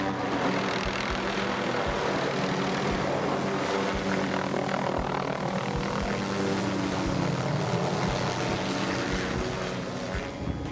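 A helicopter working a Christmas tree harvest, its rotor and engine making a steady, continuous loud drone with rhythmic low thumping throughout, and no voices.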